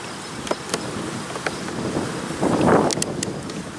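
Honeybees from a crowded, open brood-box hive buzz steadily around the microphone, with a swelling drone passing close by and light clicks of hive gear in the background.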